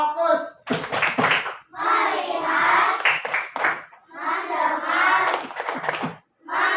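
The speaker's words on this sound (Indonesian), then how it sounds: "Coba, tepuk fokus." A school class performs a rhythmic "tepuk fokus" clapping routine, bursts of group hand claps alternating with children chanting in unison, close and lively with short pauses between phrases.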